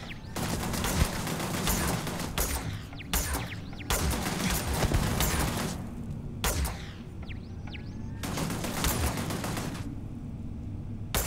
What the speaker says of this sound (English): They've got machine guns set up out here.